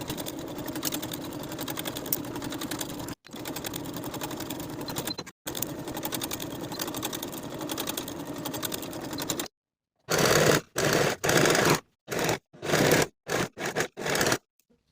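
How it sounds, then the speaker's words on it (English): A sewing machine stitches the shoulder seams of a kimono robe jacket, running in long steady whirring bursts, then a series of short, quick starts and stops; close and alone. "Now I'll sew both of my shoulder seams with a 3/8 inch seam allowance and finish the raw edges."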